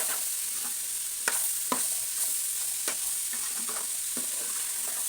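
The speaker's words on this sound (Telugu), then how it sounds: "పచ్చిమిర్చి ప్లస్ ఈ చిక్కుడుకాయ ఉల్లిగడ్డ మంచిగా వేపుకోవాలి." Broad beans, onion and green chilli fry in a wide pan with a steady hiss and sizzle, while a spoon stirs with occasional scraping taps and no talking.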